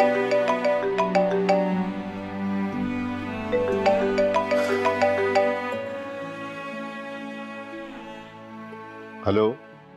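A melodic ringing tone plays steadily for several seconds while an outgoing call to a home number connects, then a short voice breaks in near the end.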